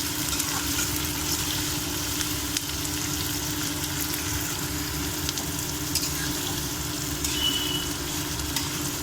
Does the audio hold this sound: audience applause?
no